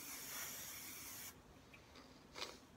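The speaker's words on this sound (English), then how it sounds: "kind of spray it all around these curls" A steady, hissing aerosol hairspray sprayed onto set curls runs continuously for over a second, then stops, followed by a couple of shorter, fainter spritzes.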